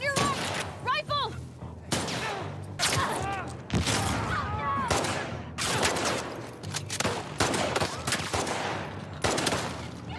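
Rapid gunshots in The Last of Us Part II, set in Seattle, sounding as dense repeated cracks across the whole stretch, with shouting voices mixed in among the firing.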